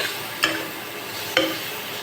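Prawns fry with onion and garlic in a pan, a low steady sizzle broken by two sharp clinks of a spoon against the pan, with no one speaking.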